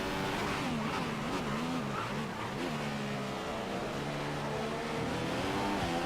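A Formula 1 car in the F1 2015 racing game at the Bahrain Grand Prix, its engine held on throttle with a loud, sustained high whine that rises and dips through gear changes, steady and close throughout.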